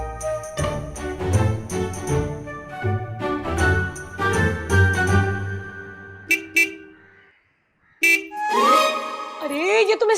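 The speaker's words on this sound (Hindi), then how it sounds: "अरे ये तो मिस्टर करीले की गाड़ी का हॉर्न है।" Busy sounds with a voice carry on for several seconds, then after a brief near-silence a car horn honks twice, loud and nearby.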